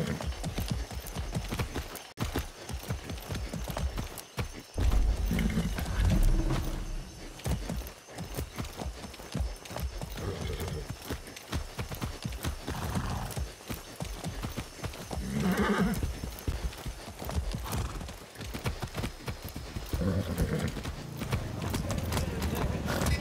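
Steady clip-clop of horse hooves in Far Cry 6 runs throughout, with a horse whinnying now and then over a dense, noisy background.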